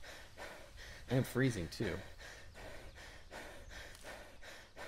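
A character in Heat Homestead pants heavily from carrying too much, a short burst of several ragged breaths in the middle, with a person speaking briefly over a quiet background.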